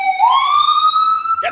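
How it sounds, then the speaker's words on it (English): A New York City ambulance siren on the street gives a loud, close, steady wail that rises briefly and then holds high, with no talking over it. "I wish the sirens were louder in New York City."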